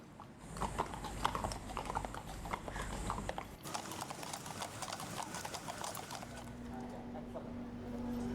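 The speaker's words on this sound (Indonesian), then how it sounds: "Kuda-kuda ini akan ditunggangi personel Polri" Hooves of Indonesian National Police patrol horses clip-clop on hard ground during security for the G20 summit in Bali. The quick, irregular, overlapping steps of several animals come from close by, with a faint tonal hum joining near the end.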